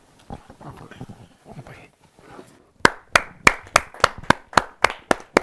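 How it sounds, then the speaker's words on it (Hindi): At a Hindi kavi sammelan poetry gathering, someone speaks before the crowd breaks into crisp, loud, evenly timed claps in a steady rhythm, about a dozen in a row. "और जोरदार ताली के साथ"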